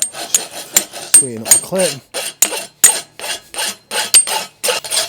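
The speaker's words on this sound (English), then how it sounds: "Just going to clean it up with the rasp a little bit on my heels and box it." A farrier's rasp scrapes over a horseshoe on a hoof, cleaning the heels and boxing the shoe in a steady run of short, close strokes, with a brief spoken remark partway through.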